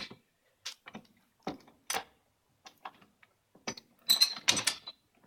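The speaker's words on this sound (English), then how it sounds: "I'm holding the clamp by just twisting this end just to try to get it to hold" Woodworking clamp being twisted and tightened during a glue-up, a series of scattered dry clicks, ratcheting ticks and small knocks, growing busier and louder toward the end.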